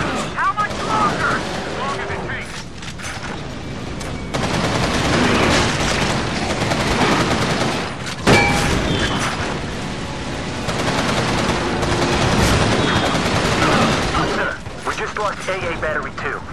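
Dense, sustained gunfire from the PS3 shooter Resistance 2 during a battle scene, loud and continuous for most of the stretch, mixed with mechanical clatter and game voices.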